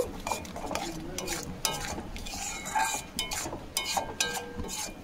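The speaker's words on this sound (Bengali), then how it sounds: "খুব ভালোভাবে এবার মশলাটাকে কষিয়ে নেব।" Spice masala with cumin and coriander powder sizzles and fries in a pan for a Bengali katla fish rezala while a utensil stirs it. The scraping and clinking are steady and close, with no voices.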